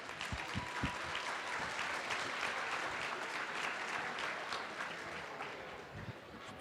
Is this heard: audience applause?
yes